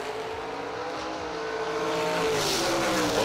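Drag racing cars launching off the line at National Trail Raceway during the JEG Summer Fling, a loud engine roar that rises in pitch as they accelerate away, heard from a distance with no talking.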